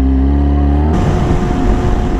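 A Yamaha R6 motorcycle with a very loud aftermarket exhaust holds a steady, buzzing idle, then abruptly revs up to a harsh, rasping high-rpm roar that stays loud and close.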